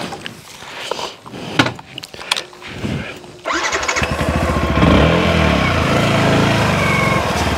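A Yamaha WR155R motorcycle on an overgrown track, starting with scattered knocks and rustling before the engine fires up loud and close, then settling into a steady revving drone.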